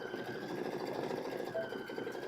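An embroidery sewing machine stitching out a design at a one-day quilting and embroidery event, a steady close mechanical hum with fast rhythmic needle motion running continuously and evenly throughout.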